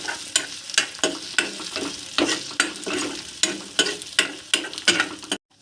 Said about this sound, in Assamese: আদা নহৰুখিনি কেঁচা গোন্ধ যোৱালৈকে মই ভাজি থাকিম।